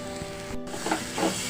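Water splashed onto hot biryani masala in a pan for egg biryani, giving a brief broadband hiss and sizzle with a burst of spluttering and stirring scrapes, close and moderately loud, no talk.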